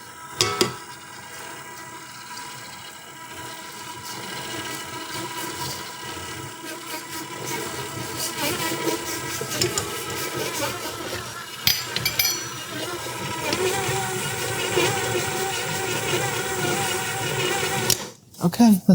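Stand mixer fitted with a paddle stirring shredded coconut into macaroon batter, a steady motor whir with faint clinks of the bowl running throughout, cutting off briefly near the end.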